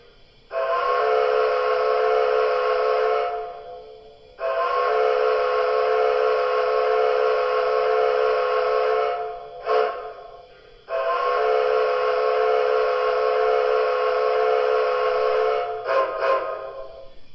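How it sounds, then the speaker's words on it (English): Steam whistle of an MTH Premier Reading T1 4-8-4 Northern model locomotive: three long, loud, steady chime blasts with short gaps between them, heard alone. "Let's hit the whistle, the regular whistle,"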